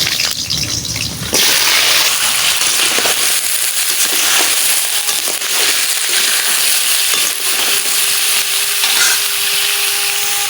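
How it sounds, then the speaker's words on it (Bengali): Crab dropped into hot oil bursts into a loud, crackling sizzle that starts suddenly and keeps spitting and hissing close up while the pieces are stirred, for a bottle gourd, crab and prawn curry. "তেল গরম হয়ে গেছে এবারে কাঁকড়া দিয়ে দিচ্ছি"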